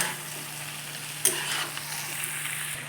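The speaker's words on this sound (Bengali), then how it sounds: "আগে থেকে সিদ্ধ করে রাখা কাঁঠালগুলো দিয়ে দেব একসঙ্গে ভালোভাবে মশলার সঙ্গে মিশিয়ে নেব" Pre-boiled jackfruit being stirred and fried with spices in a pan: a continuous close sizzle with a single sharp scrape of a spoon partway through.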